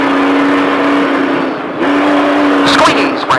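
Trophy truck engine at the Speed Vegas track roaring close by, holding a steady drone, dipping briefly, then climbing again as throttle returns, with a voice faintly underneath.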